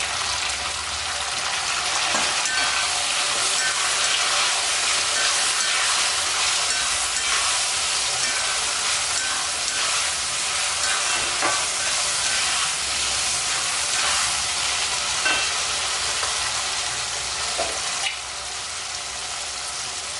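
Tomatoes stir-fried in plenty of oil for Chettinad brinjal kuzhambu give a loud, continuous sizzle and hiss close by. Occasional stirring scrapes cut through the sound, and no one speaks.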